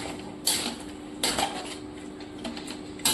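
Chicken kosha being stirred in a pan over a low flame, a spoon or spatula scraping and clinking against the metal in a few distinct bursts over steady low kitchen noise.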